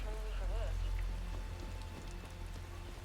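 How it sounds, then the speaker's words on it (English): Rain patters steadily on surfaces in the video game Star Wars Outlaws, a soft continuous hiss under low game ambience, fairly faint throughout. "Okay, so there's rain and trees on this planet."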